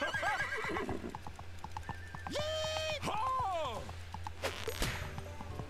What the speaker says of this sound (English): Oh, it's my horse, look at